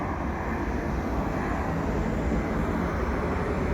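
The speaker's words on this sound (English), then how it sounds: "There's the plane that I was looking for." A steady, broad engine roar of an airplane passing overhead near the Dorval rail yard, constant and fairly loud throughout.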